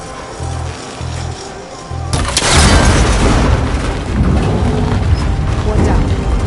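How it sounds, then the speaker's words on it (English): In Horizon Forbidden West, an arrow strikes a metal connector binding a tower's cables, which snaps with a sudden loud crack and is followed by several seconds of dense, rattling debris and mechanical clatter, preceded by faint low hums. "That connector's holding the cables together. It should break if I shoot it."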